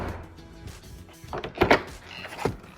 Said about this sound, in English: That is the sound of a quality door just there.